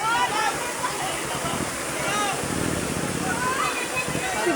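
Strong flood water rushes through a creek in Anitapan, Mabini, Davao, in a loud, continuous torrent heard close by. Excited voices shout over it now and then.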